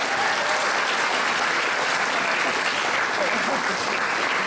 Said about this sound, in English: Let's give an applause to all the organizers.